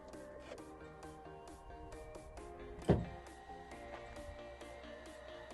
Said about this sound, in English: You can deploy the tow bar from the rear of the vehicle just by simply pressing the button, and the tow bar and the electrics will deploy underneath